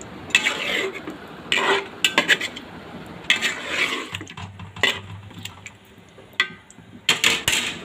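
Spoon stirring chopped ripe and unripe tomatoes into a rohu fish curry in a pan: irregular clinks and scrapes of metal on the pan come in short bursts with pauses between them, close and clear.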